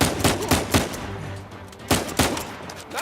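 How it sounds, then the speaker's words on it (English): Gunfire in the video game Uncharted 4, with several loud, close gunshots, a quick burst of three or four at the start and two more a second later, over a rumbling game background. "Nice shooting!"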